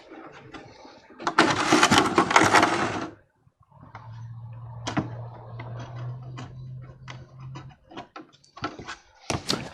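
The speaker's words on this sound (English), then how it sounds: "To make that nice and pretty, put it on the belt sander, a little bit of hand cleanup." A belt sander shapes and smooths a costume armor abdomen piece for a ShoreTrooper or TankDriver suit. Loud, rough grinding bursts start and stop, with a steady low mechanical hum in a quieter stretch between them.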